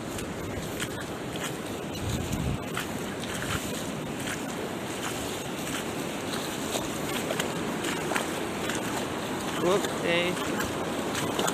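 Wellies wading through water on a flooded river path, with sloshing splashes over rushing water and wind noise across the microphone, and a brief voice speaking near the end.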